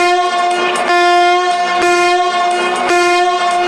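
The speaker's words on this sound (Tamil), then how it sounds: "வண்டி எங்கேயாவது நின்று தொடர்ந்து 4 ஷார்ட் விசில்" A train engine horn gives four short, loud whistle blasts in quick succession, a rolling-stock signal that something ahead is wrong and the train cannot go on.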